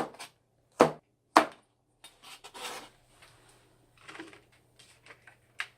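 A knife slicing red and green chili peppers on a cutting board, a few sharp separate chops and rasping cuts spaced irregularly over a faint background hum.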